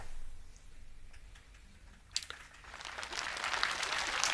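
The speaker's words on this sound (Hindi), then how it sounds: "बस तालियां ज्यादा नहीं बजाओ" Applause from an audience at an evening satsang in an ashram, starting as scattered faint claps and swelling into fuller clapping toward the end.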